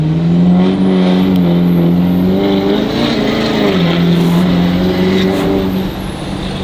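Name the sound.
1000HP dually tow truck engine warming up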